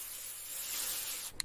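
Aerosol air freshener sprayed in one steady, continuous hiss lasting over a second, ending in a short faint sputter, with no talking.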